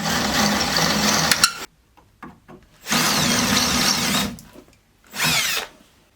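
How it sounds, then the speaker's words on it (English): A power drill with a 1/4-inch bit drills out rivets holding speakers in the back of a vehicle, three loud grinding bursts separated by short pauses with faint clicks in between. "we're going to use a 1/4-inch drill bit and drill these out"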